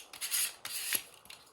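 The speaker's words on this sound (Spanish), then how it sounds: "Esto pasarle la lija" Sandpaper rubbing over the plastic shell of a Nintendo controller, a few close, rasping back-and-forth strokes in quick succession.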